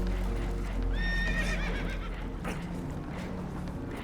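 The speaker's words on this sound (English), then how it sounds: "Horses are spooked, and we're taking on water." Spooked horses whinny and neigh in distress aboard a leaking boat in the video game Red Dead Redemption 2, a loud shrill whinny followed by hoof clatter and a sharp knock over steady low rumbling water.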